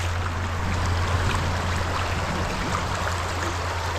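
A river brook rushes steadily around a small waterfall, a constant broadband roar with low rumble, close and unbroken for several seconds with no voices.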